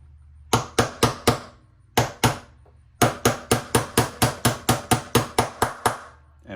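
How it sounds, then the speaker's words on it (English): A hammer taps sharply on a metal RC car part, first in a few separate groups, then in a steady run of about a dozen evenly spaced, ringing hits. "And then we just use a hammer, just tap that on."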